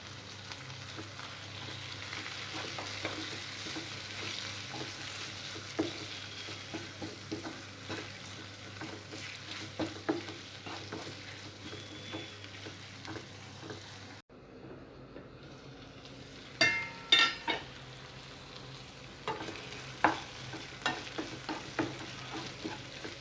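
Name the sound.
tomato pieces frying in onion paste, stirred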